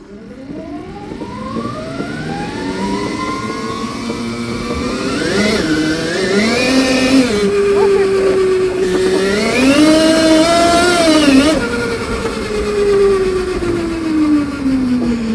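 A tiny car built up to 1000 Nm of torque, its engine revving hard and rising and falling in pitch as the wheels spin. The engine tone is loud and steady, with no talk over it.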